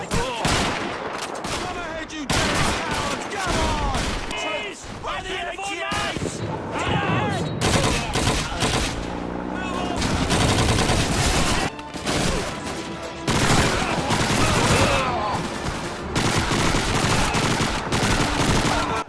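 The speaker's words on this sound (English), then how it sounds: "I think the gun sound effects could have definitely been improved." Dense, continuous gunfire from the World War II shooter Call of Duty 2 on Xbox 360, with rapid machine-gun bursts, single shots and booming explosions layered into a loud, unbroken battle din.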